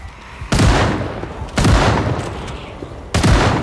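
Gunfire from weapons in a zombie survival video game, with three sharp, loud shot bursts at roughly one-second intervals, each trailing off into a noisy decay, with no talking.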